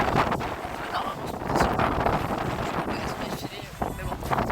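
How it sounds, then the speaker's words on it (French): Strong wind roars and buffets the microphone on a boat sailing near Santorini, a loud continuous rush with gusty swells, while voices talk faintly underneath. "il y a beaucoup de vent"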